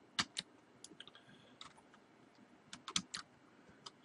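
Data keyed in on a computer keyboard, ages entered into a statistics data set; close, sharp clicks come in small irregular clusters with short quiet gaps and no talking.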